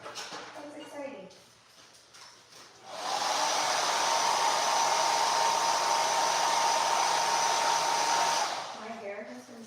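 A handheld hair dryer switches on and blows with a steady loud whooshing roar for about six seconds before cutting off, with conversation heard before and after in a salon.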